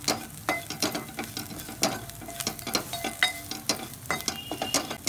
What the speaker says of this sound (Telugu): ఇదిగోండి ఇలా వేగాలండి ఉల్లిపాయలు.